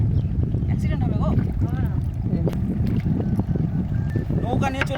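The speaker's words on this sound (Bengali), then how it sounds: "নৌকা নিয়ে চলে এসেছি আমরা" A small wooden fishing boat moves along a river, with low water and hull rumble under wind buffeting the microphone, while people talk and call out over it close by.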